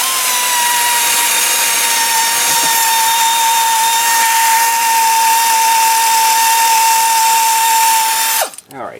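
A power tool whines steadily at high speed while loosening a bolt on a 2004 Jeep Liberty front wheel hub during bearing and brake replacement, ending with a short rattling wind-down.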